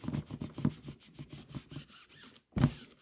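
Repeated rubbing strokes on a surface with a scrubbing, rasping texture, steady rhythmic scraping over about two and a half seconds, then a short pause and one more firm rub close by.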